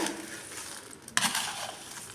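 A spiced mixture is stirred in a pan, giving soft continuous scraping and light rustling with a sharper clack partway through, close and fairly quiet, with no talking.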